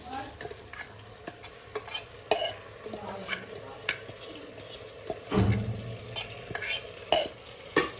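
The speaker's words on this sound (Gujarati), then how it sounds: "ચલો હવે આપણે નાખીશું એમાં સોક્ડ રાઈસ" Soaked rice tipped into a pan of colourful biryani masala and stirred in for Rajwadi biryani, giving a close scraping, clattering stir with soft sizzling, a heavier tumbling burst midway and no talking.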